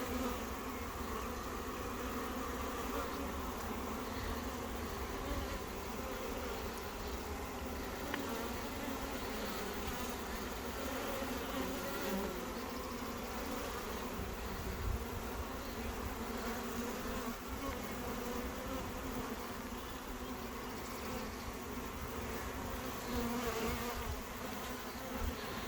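A swarm of honey bees fanning near a hive makes a dense, continuous buzzing drone that stays steady and close throughout, with no voices.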